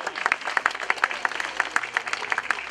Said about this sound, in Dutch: Nou, applaus.